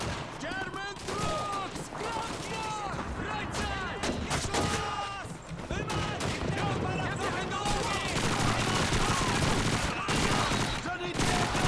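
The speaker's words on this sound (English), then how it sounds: "some of the gun sounds just don't sound as good as they did in the first Call of Duty" Semi-automatic rifle fire in the World War II shooter Call of Duty 2, with dense overlapping shots and bursts across a constant battlefield din, with a voice talking over it.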